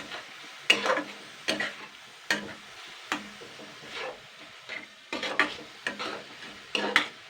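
A spoon stirs a sticky coconut and jaggery filling in a pan, giving about eight separate scraping, clattering strokes with quiet gaps between them, alone and fairly soft.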